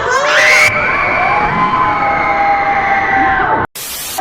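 A crowd at an M7 World Championship watch party in the Philippines shouts and cheers loudly and continuously, with excited children's voices standing out, before a brief cut and a renewed burst of noise.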